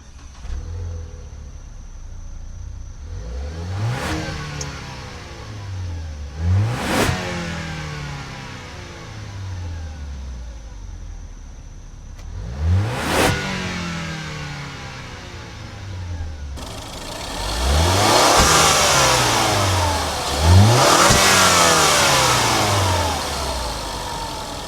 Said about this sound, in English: Under the hood of the Lincoln here, we got the 2-liter EcoBoost turbo 4-cylinder that makes 240 horsepower and 270 pound-feet of torque.